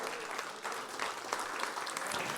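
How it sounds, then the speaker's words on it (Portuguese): A church congregation applauds in praise during a sermon, a soft, fairly distant patter of many hands that holds steady for a couple of seconds. "Vamos aplaudir o Senhor, irmãos? Vamos aplaudir o Rei dos Reis."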